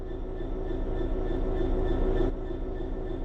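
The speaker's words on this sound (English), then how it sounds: "Let's get the train moving and see it all working." Train starting to move in Train Sim World 3, a steady low rumble with a faint whine and tonal hum, fairly loud and unchanging before easing slightly near the end, with no talk.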